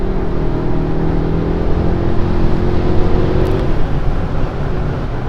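2021 Mercedes S580 V8 accelerating from highway speed of 120 km/h, a continuous loud low engine drone with steady harmonic tones rising through the pull, heard from inside the cabin with road and wind noise.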